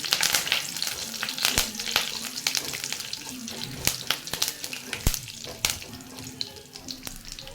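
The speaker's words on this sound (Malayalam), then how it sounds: "നമുക്കാദ്യം കടുക് പൊട്ടിച്ചെടുക്കണം" Mustard seeds and curry leaves crackle in hot oil in a pan, a busy sizzle broken by sharp irregular pops and spits, close and loud throughout.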